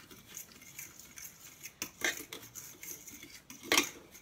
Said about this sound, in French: Je remue le tout.